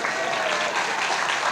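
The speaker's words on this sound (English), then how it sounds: "You can clap a little louder." A crowd claps steadily and fairly loudly, an even, continuous patter of many hands with no talking over it.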